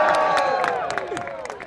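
A comedy juggling show crowd cheers and whoops loudly, with clapping and scattered shouts throughout, a dense burst of audience noise.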